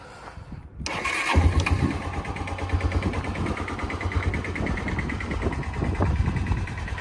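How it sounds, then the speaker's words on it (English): Honda Bayou ATV fitted with a new starter cranks briefly and fires up, then settles into a steady, fairly quiet idle close by with a low throbbing rhythm. "The Bayou just got this new starter clean, so it fires right up now."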